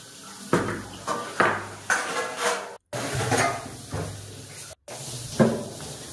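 A spoon stirs sugar-free sweetener into a cup of tea, with a series of clinking, scraping taps against the cup at an uneven rhythm. The taps sound close and fairly quiet, and no one speaks.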